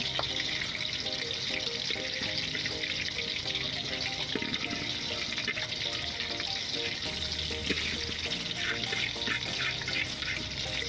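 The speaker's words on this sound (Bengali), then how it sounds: "পেঁয়াজ কুচি কিছু গরম হওয়ার পর ভেজে নিচ্ছি পেঁয়াজ কুচি।" Chopped onions fry in oil for a large picnic batch of meat, a dense, continuous crackling sizzle that stays even and fairly close the whole time.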